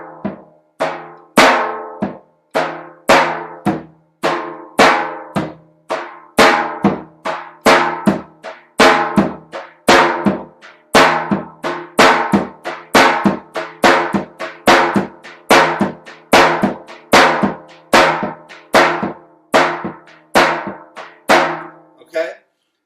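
A tapan drum plays a steady repeating three-beat pattern, one strong stroke followed by two lighter ghosted ones from switch and beater, resonant and close, continuing evenly throughout.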